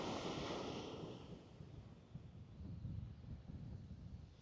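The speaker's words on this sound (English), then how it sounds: "windy." Wind buffets the microphone on a sandy beach during shore fishing, a low gusty roar mixed with distant surf that swells early, eases, then rises again, faint overall with no talk.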